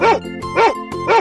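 A cartoon dog in a 3D animal slide video game barks three times in an even rhythm, loud, clear and close, with short gaps between the barks.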